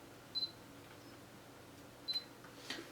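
Camera shutter snapping pictures of a National RQ-542 boombox during a repair, two quick distinct clicks plus a fainter third, close and isolated in a quiet room.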